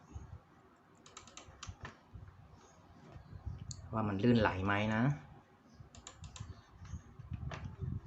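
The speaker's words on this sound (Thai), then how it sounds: "ลอง เปิดเพื่อ พิมพ์ ทดสอบตัวคีย์บอร์ดนิดนึงนะครับ" Close, light clicking of a cheap backlit gaming keyboard (KER-KM6120) in bursts, pausing while someone speaks briefly, then typing resumes.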